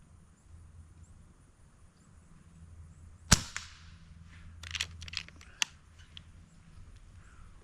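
An Avenge X air rifle fires a single sharp crack from a portable shooting bench, followed by faint mechanical clicks and clacks of handling.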